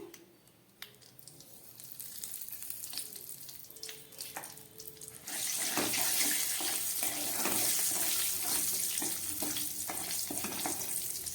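Bay leaves, dried chillies and crushed cardamom dropped into hot oil for a moong dal tempering, a quiet crackle with light clinks that swells into a louder, steady sizzle.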